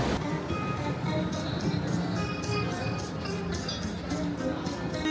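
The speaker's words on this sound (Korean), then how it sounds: "파도 소리를 들으니 스트레스가 날아가네요." Ocean surf washes onto a wide Santa Monica beach in Los Angeles, a broad continuous rushing roar with faint background activity from a nearby amusement pier.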